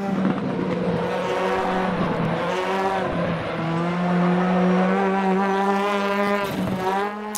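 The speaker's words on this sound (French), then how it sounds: "vous l'entendez au bruit des pneus qui crissent sur ce tarmac" WTCR touring race car at the Slovakiaring circuit, a loud, close engine roar with shifting pitch as it works through technical corners, tires squealing across the tarmac throughout.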